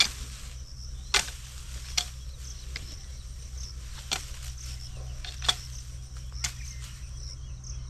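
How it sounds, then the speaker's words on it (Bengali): Neem branches being chopped into small pieces outdoors, sharp isolated cuts landing every second or so, set against a steady low hum and a constant high insect-like buzz. "এই যে আমাদের নিম ডাল, এগুলোকে ছোট ছোট করে টুকরো করে নেব"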